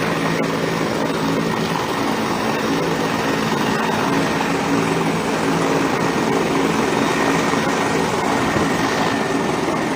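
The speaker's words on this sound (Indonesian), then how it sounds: "Baiklah, helikopter saat ini sudah siap lepas landas, Tribuners." A police helicopter idling and ready to take off after an evacuation in Kerinci, a loud continuous engine and rotor drone held steady throughout at close range, with no rising pitch.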